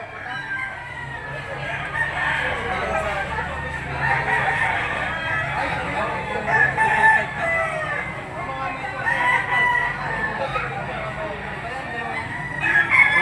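Roosters crow repeatedly inside a fowl auction market, and hens cluck amid a busy indoor din. Several calls overlap at mid distance, and faint voices murmur in the background.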